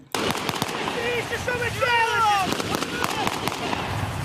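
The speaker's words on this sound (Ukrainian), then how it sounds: "Навколо стрілянина все в диму" Sharp bursts of gunfire crack repeatedly during a military training exercise with grenades and smoke around trenches, with louder blasts scattered among them, while shouting voices carry over the commotion.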